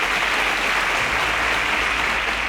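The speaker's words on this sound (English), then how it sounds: "A round of applause for them." Quiz show audience applauding the contestants who answered correctly: a steady, even round of clapping filling the whole stretch, with a low hum running underneath and no talk.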